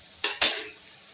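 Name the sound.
potatoes deep frying on full flame for chilli potato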